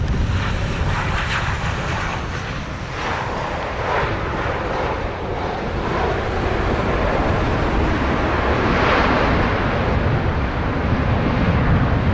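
A fixed-wing airliner lands at Montego Bay airport in Jamaica on runway 07. Loud, steady broadband engine roar fills the whole stretch close by and swells slightly near the end, with no talk.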